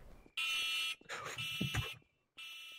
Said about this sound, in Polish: Alarm dzwoni.